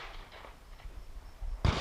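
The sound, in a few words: gunshot during low-ready shooting practice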